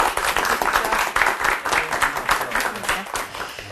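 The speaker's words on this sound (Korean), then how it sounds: "큰 박수로 맞아주시기 바랍니다." Audience applause welcoming a guest lecturer to a leadership lecture series, a dense spread of hand claps at steady moderate loudness with some voices mixed in.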